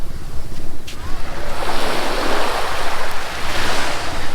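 Ocean surf washes steadily onto Menzi Beach Park in Dahican, Mati City, a loud, broad rushing wash with wind buffeting the microphone and no voices.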